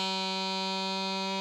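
A bagpipe chanter holds low G with the reed fully resonating, a steady, bright, buzzing drone-like tone sustained evenly and loud throughout.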